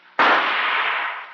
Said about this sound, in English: Go ahead, Shirtliff, shoot.